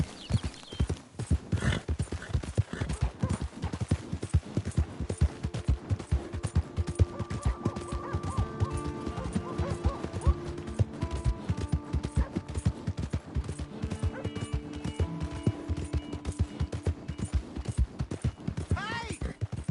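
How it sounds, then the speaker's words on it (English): Horse hooves clip-clop in rapid, steady rhythm throughout a stretch of Red Dead Redemption 2 gameplay, loud and continuous over layered game sounds and tones. "Hey! My horse!"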